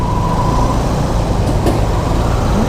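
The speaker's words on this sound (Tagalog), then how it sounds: "Grabe laki ng truck." A very large truck rolls by on a one-way street, a heavy, continuous low roar that stays loud and close for the whole short moment.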